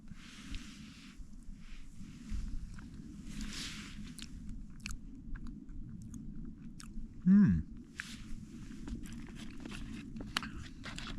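Close chewing and crunching of a crunchy sweet cinnamon breakfast while winter wild camping on Dartmoor, with soft repeated bites and mastication against a quiet outdoor background and one brief louder rustle.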